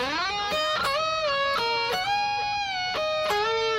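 Electric guitar from a solo playing a phrase of sustained notes with wide vibrato, each note wavering steadily before sliding to the next, bright and close with no voices.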